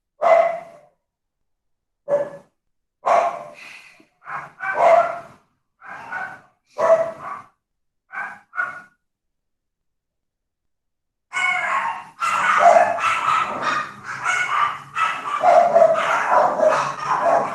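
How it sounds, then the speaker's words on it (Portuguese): Several dogs barking at home in a series of short, separate barks and yips, followed by a denser stretch of overlapping, continuous barking and whining close by. "Nossa, essa cachorrada aqui em casa hoje tá que tá"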